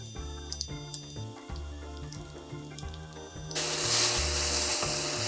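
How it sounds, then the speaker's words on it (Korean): Carrots stir-frying in a little oil with a pinch of salt give a steady, close broadband sizzle that swells up partway through, after a stretch of background music. "기름을 살짝 두르고 당근을 볶아줍니다"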